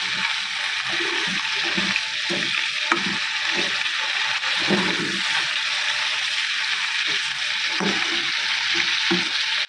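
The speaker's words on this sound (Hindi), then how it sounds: "अच्छी तरह से हमने इसको फ्राई कर लेना है।" Chicken deep fries in oil in a karahi for a charsi chicken karahi, a loud continuous bubbling sizzle joined by rhythmic scraping stirs throughout, with no voices.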